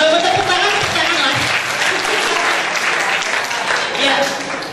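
Seminar audience of vocational school students in Pemalang breaks into steady applause, a continuous wash of many hands clapping that lasts throughout, with a speaker's voice faintly underneath.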